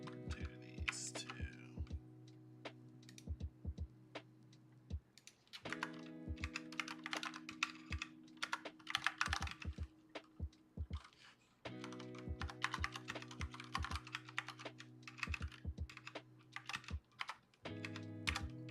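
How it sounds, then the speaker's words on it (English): Steady typing on a split computer keyboard, fast runs of close, crisp key clicks with brief pauses, over a constant low electronic hum. "I'm still using my fancy new keyboard, my split keyboard"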